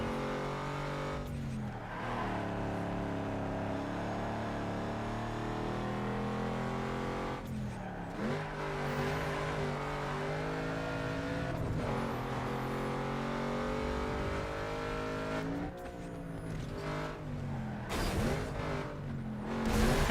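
Pony car engine in the Need for Speed Underground 2 racing game, revving hard and continuously, with repeated gear shifts, rising pitch sweeps and occasional tyre skids, loud and close throughout.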